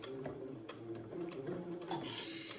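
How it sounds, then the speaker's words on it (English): A sewing machine stitches along the fold of a suit placket, a faint, steady run of rapid needle clicks with a soft mechanical hum, close by and without talk. "Okay, so I will keep sewing"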